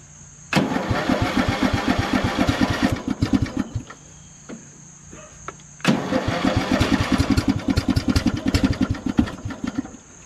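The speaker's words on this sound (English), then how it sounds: "Let's go for a test drive. Choke." Craftsman LT2000 lawn tractor engine cranked twice on choke, each start bursting into a loud, rapid chugging run that cuts out and restarts, heard up close with no talking.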